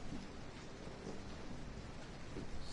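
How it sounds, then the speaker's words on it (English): Steady rain in the game Resident Evil 7, a faint, even hiss of falling water with no other distinct sounds and no talk. "And it's raining."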